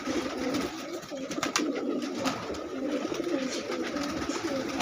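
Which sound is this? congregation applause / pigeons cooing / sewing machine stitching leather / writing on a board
pigeons cooing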